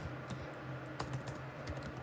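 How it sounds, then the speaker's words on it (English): Rapid keystrokes tapping on a computer keyboard during a live stream, a steady run of small clicks with a few louder strikes, close and fairly quiet over a low background hum. "I'm just typing."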